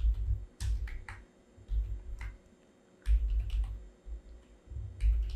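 Fingers type an answer on a computer keyboard in short bursts of crisp key clicks separated by pauses, close and fairly quiet over a low rumbling background hum.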